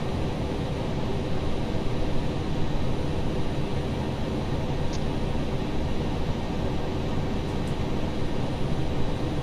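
Steady, loud broadband engine and airflow roar of a ToLiss Airbus airliner in a flight simulator on approach to Honolulu, continuous and unchanging throughout with no talk.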